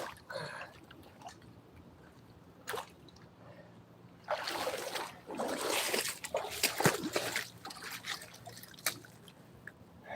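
Water splashes and sloshes in a creek, a few isolated splatters at first, then a longer stretch of busy, uneven splashing and trickling at close range, with no talk.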